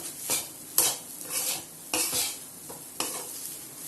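Egg fried rice stirred in a pan, with four distinct scraping strokes of the spatula against the metal in a steady rhythm over a soft sizzle, close and fairly loud, with no voices.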